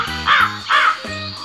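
A crow gives two loud, rasping caws in quick succession, near and distinct, followed by a brief pause with a low droning background underneath.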